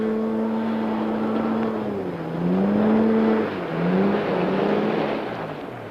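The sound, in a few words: Pindair Skima 4 hovercraft running at speed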